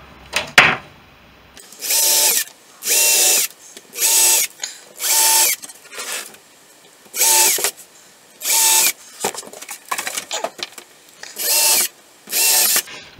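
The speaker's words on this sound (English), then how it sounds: "I'm going to drill all the rivets around the perimeter." A power drill bores out rivets around an aircraft side window on a Sherwood Kub, running in about nine short, even bursts of high whining with brief pauses between, close and loud, with no talk.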